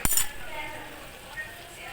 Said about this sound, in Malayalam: ഒന്ന് മൂടി വെക്കാം.